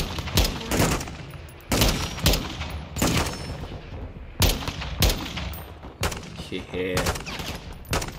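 Gunfire in the video game Call of Duty Modern Warfare 2: loud, sharp shots crack out in quick bursts and irregular volleys, close and punchy, while a voice speaks briefly.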